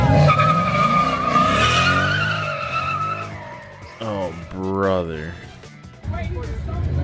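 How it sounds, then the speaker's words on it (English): A Ford Mustang's tires skid and squeal as it tries a donut and understeers at a car takeover, with engine noise and voices talking over the scraping screech. "he's trying to do a donut and he... Understeer"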